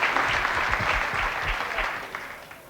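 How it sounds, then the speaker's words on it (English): Audience applause at a 1990 9-ball pool match between Earl Strickland and Nick Varner, moderately loud and fading toward the end, with a few scattered shouts and voices mixed in. "Nick's going to get a big applause here for breaking"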